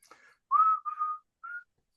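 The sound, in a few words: person whistling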